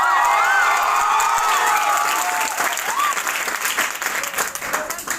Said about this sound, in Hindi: जो आप तालियां मेरे लिए बजा रहे हो